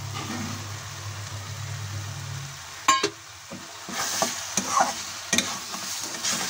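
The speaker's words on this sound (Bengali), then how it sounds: "মশলা ফ্রাই হয়ে গেছে, এখন আমি এর মধ্যে দিয়ে দিচ্ছি ভেজে রাখা মাশরুম" Fried mushrooms tip into sizzling masala in a pan, a soft fry fading under a low hum, then a sharp clatter and several scraping stirs with brief taps of a spoon against the pan.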